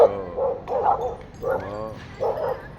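A dog barks at a car wash, several close, loud barks in an uneven rhythm with short yelping tones and brief pauses between them.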